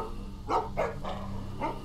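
A dog in The Walking Dead Season 2 video game barks four times in quick, uneven succession, loud and close over a low steady background hum.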